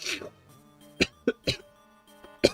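Several short, sharp coughs come in quick succession, close and fairly loud, after a brief vocal sound.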